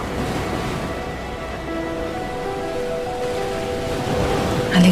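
Sea waves wash steadily onto the shore, a loud continuous broadband hiss of surf and foam that swells slightly near the end, with no voices.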